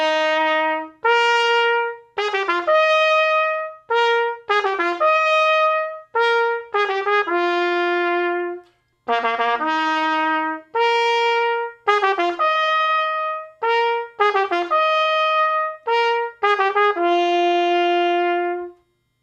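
A solo trumpet plays a lively tune of short and held notes, clear and close with no other sounds.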